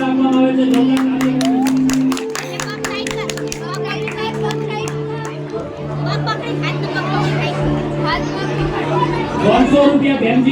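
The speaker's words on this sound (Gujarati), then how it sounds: "જોરદાર તાળીઓના ગગડા સાથે વધાવીશું" An audience at an event honouring donors breaks into applause, scattered claps building amid lively crowd chatter and children's voices throughout.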